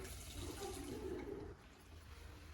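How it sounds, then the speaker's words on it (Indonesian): Tap water runs from a faucet for hand washing, a steady close rushing stream that drops to a softer flow partway through. "kita nyalakan dulu airnya, kemudian kita mencuci tangan di air yang mengalir"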